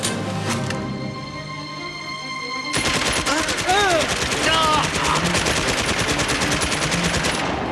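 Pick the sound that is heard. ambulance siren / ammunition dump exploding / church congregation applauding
ammunition dump exploding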